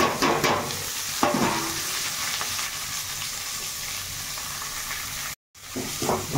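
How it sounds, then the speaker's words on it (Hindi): Onion fries in oil in a pan for a bottle gourd curry, giving a steady close sizzle with a few stirring scrapes early on and a brief dropout near the end. "पियाज भाजी देबा"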